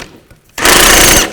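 An impact wrench with an 18mm socket removing a strut nut on a 2005-2010 Chevy Cobalt, a short quiet pause then a loud, close, rapid hammering burst lasting under a second.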